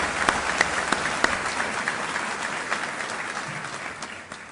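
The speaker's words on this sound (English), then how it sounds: "let me say thanks and lead them on a round of applause." A crowd claps steadily, a dense sustained round of applause with scattered sharper claps standing out, at an Air Force basic military training graduation.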